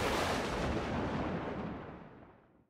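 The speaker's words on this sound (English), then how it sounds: "This is way too many explosions." A heavy, booming explosion bursts loudly and rumbles, then fades out over a couple of seconds.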